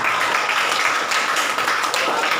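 A class of students applauds a group's presentation in a classroom, with dense, steady clapping from many hands throughout, fairly loud and close.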